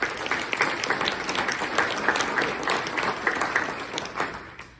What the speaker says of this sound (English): let's just give a moment of applause